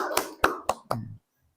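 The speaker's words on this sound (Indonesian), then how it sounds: "berikan tepuk tangan untuk teman kita" A few separate hand claps, about four sharp slaps spaced irregularly, close and fairly faint, given for a classmate named as a prize winner, then silence.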